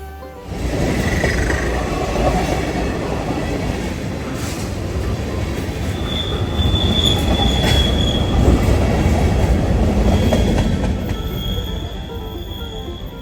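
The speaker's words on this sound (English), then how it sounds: "We'll see 3 trains here at Altapass." A CSX freight train rumbles steadily past at Altapass on the Blue Ridge grade crest, close and loud, wheels squealing and clattering on the rails throughout.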